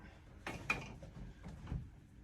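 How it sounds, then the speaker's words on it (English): A Milwaukee Quik-Lok attachment, set among pole saw and hedge trimmer heads, snaps into its coupler with a couple of soft, close mechanical clicks and a faint rattle in a quiet space. "Just lock that in there."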